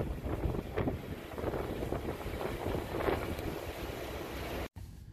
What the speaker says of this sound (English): get out of that dang wind